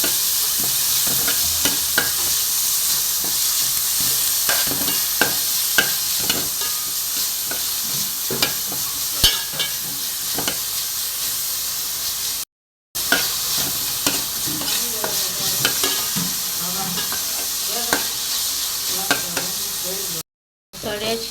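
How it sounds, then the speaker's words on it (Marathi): Onions and chillies fry in about three spoons of oil in a pan, giving a loud, steady sizzle with frequent stirring scrapes and clatters close up. The sound cuts out briefly twice. "कांदो आनी मिरसांग बरे भाशेन फोंड मारून घेवपाचें"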